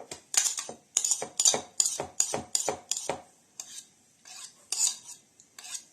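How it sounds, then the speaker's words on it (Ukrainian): Soft butter is beaten in a bowl for a plum cake, a rapid run of sharp metallic clinks and scrapes in quick bursts, then a few sparser strokes, close and clear with no talking. "Збиваємо масло."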